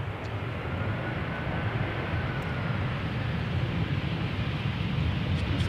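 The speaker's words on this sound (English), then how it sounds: "arriving from London Luton, A320." Airbus A320 arriving at Amsterdam Schiphol on a sunny day, a steady distant jet rumble of moderate level that holds evenly throughout, with no talking.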